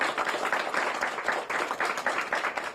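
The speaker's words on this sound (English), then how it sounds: "we should clap for that" An audience claps at a bill signing for legislation on equitable gender and racial representation, a short burst of moderate, uneven hand clapping with a faint murmur underneath.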